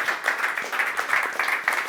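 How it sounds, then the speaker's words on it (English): Audience applause at an energy market webinar event, a steady patter of many hands clapping close by, fairly loud and sustained with no voices over it. "But first, John, Lucy, a round of applause."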